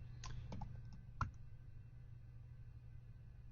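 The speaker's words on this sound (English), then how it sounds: "I can go in and I can begin typing her name" A computer keyboard gives a few faint, scattered clicks of typing over a low steady hum, then falls quiet.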